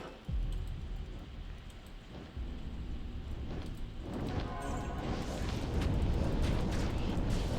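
Exploding-bow arrows in Project Diablo 2 set off a rolling series of heavy, rumbling blasts that build in density and loudness, thick booms and crackle layered close together with no talking.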